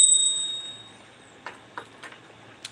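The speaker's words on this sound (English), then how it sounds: "I'm going to ring a bell on that one." A small bell rings brightly once at the start and then trails off as a long, fading ring, with a few faint ticks and knocks afterward in a quiet room.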